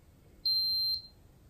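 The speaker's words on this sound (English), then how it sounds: "search around again until SARCTRAC stops beeping." A SARCTRAC 3D sensor gives a single clear, steady electronic beep of about half a second during calibration, loud against quiet background noise.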